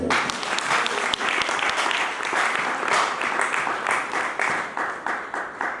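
A church congregation applauding during a sermon, dense sustained clapping close and loud throughout, tapering slightly toward the end.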